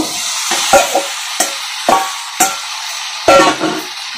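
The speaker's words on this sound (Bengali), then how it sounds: "এটাকে দিয়েও ভালো করে নেড়ে নিব" Fried vegetables are stirred in hot oil, the spoon scraping and turning them in about eight quick strokes over a steady close sizzle.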